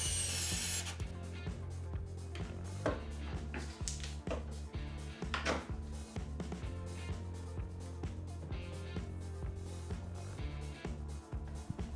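Power drill driving screws through hinges into a homemade wooden band saw table, a steady close whirring with pitch shifts and brief bursts as each screw seats.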